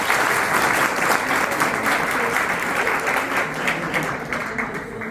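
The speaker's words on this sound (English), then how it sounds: "Clap for it." A class of students claps together in a lively burst of applause during an anatomy lesson, loud and continuous before gradually thinning toward the end.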